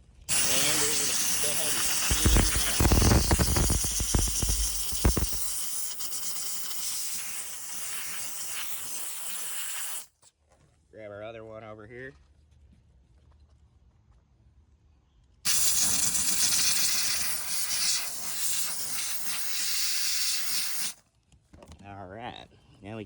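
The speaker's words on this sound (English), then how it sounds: "I'm gonna grab my steamer, and we're gonna go ahead and steam that." A handheld steam cleaner blasts loud, sustained hisses in two long bursts while a car interior is detailed, separated by quieter stretches of low noise and a brief mechanical chatter.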